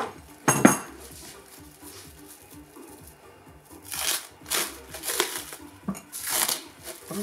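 Stretch film pulled and wrapped tightly around a glass jar of homemade beaver castoreum tincture, giving crinkly, rustling bursts close by, an early sharp crackle and then a run of irregular plastic stretching and crinkling toward the end.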